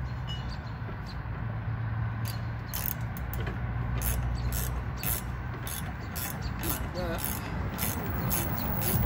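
A 9/16 wrench tightens a bolt on a Monroe rear shock of a 2004 Ford F-150, with repeated faint ratcheting clicks in a steady rhythm over ambient outdoor noise, a voice talking briefly.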